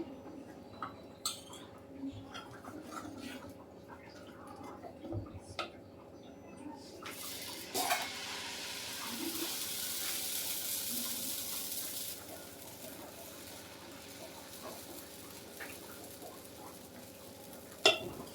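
Batter for an uttappa made with alasande (black-eyed peas) is spread on a hot pan with ghee, giving a faint sizzle, a louder hiss in the middle and scattered utensil clicks, with a voice speaking quietly at times.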